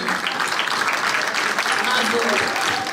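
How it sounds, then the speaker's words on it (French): Audience applause at a charity gala in Brussels, a dense, steady wash of clapping from many hands that holds at an even level throughout, with voices mixed in underneath. "Est-ce qu'on peut les applaudir, s'il vous plaît?"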